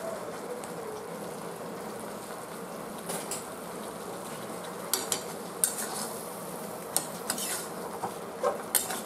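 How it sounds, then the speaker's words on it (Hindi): Paneer and spices stirred together in a pan for a quick no-onion, no-garlic paneer dish, with a steady low cooking hiss and sharp utensil clinks and scrapes against the pan, growing more frequent in the second half; no one speaks. "अब ये पनीर के साथ अच्छे से मसाले को मिक्स करना है।"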